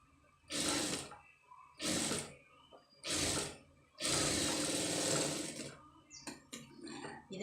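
Sewing machine stitching embroidered blouse fabric, running in four bursts of sewing with short pauses between, close and loud, followed by lighter clicks and handling noises, no talking.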